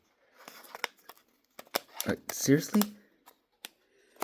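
Scissors cutting open a plastic blind bag in a few short, scattered snips and crinkles, with a brief spoken exclamation in between.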